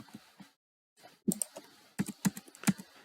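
Arrow keys tapped on a computer keyboard during Minecraft mod-making in MCreator, a short burst of light clicks, then a pause, then several quick, close keystrokes in an uneven rhythm.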